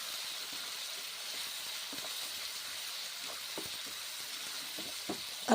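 Masala and bottle gourd curry frying in a pan, a steady close hiss and sizzle running through the whole clip with faint stirring knocks and no voices.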